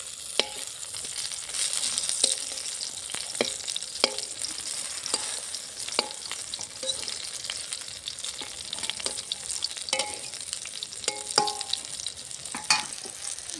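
Eggplant sizzles and fries steadily in a pan, with occasional scraping and tapping of a utensil stirring it; no voices.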